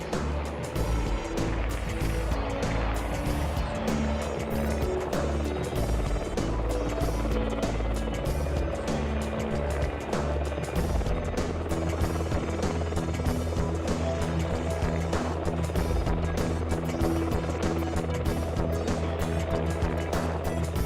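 A Merlin military helicopter flies at an air display, its loud, steady rotor and turbine drone holding throughout with a constant low throb and broad roar, alone with no talking.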